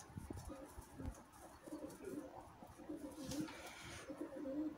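Soft pigeon cooing repeats through a noisy outdoor background at a zoo park in Russia, with faint rustling and distant voices.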